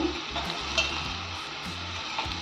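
Tomatoes sautéing in masala in a pan: a steady, close sizzle with scraping stirs and soft clinks of a spoon against the pan, no voices.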